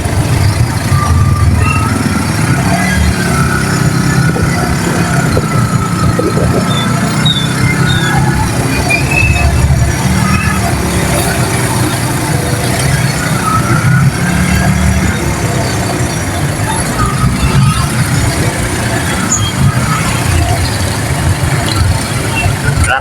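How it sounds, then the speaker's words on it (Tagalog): Street traffic passing outside a moving vehicle on the way to a market: a constant loud rumble of engines and road noise, close and continuous, with faint horns and voices mixed in underneath. "Traffic."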